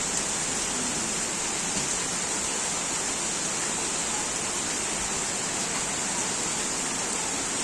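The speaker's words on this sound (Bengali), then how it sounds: "পানির ঢল দেখছেন কি?" A rushing torrent of floodwater roars as a constant, broadband wash of noise, steady and unbroken throughout with no distinct events or speech.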